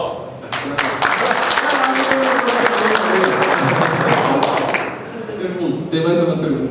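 A classroom audience at a lecture on three-phase amplifiers breaks into steady applause. Many hands clap densely and fairly close, then fade out near the end.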